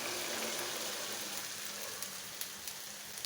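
Chickpeas fry in a pan with cooked-down spice paste, giving a steady hiss and sizzle with a few faint pops toward the end.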